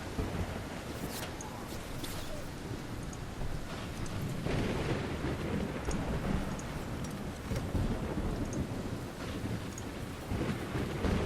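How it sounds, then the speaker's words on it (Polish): A thunderstorm plays in the strategy game Stronghold Crusader 2: a steady wash of rain-like hiss runs throughout, with low rolling rumbles swelling now and then. The sound is moderately quiet and has no voices. "Gdzie jest ta burza?"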